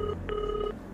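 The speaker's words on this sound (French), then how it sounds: "Antokozo, réponds à ton téléphone, s'il te plaît." A telephone rings in an indoor domestic scene: a steady electronic two-tone ring in two short bursts, fairly close and clear, with no voices over it.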